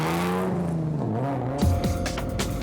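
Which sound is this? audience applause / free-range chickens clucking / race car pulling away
race car pulling away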